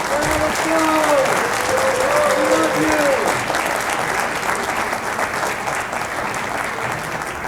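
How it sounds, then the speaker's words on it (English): An audience at a mayor's State of the City address in Kent breaks into a long, even round of applause from many hands, with a few voices briefly audible over the clapping early on. "let's give them a round of applause."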